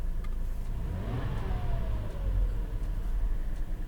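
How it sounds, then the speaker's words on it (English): A 2022 Toyota 4Runner TRD Sport fitted with an aFe Momentum GT cold-air intake revs up, its engine climbing in a steady rising sweep and then easing off, loud and close with no talking. "Okay, so we're gonna give it some few revs."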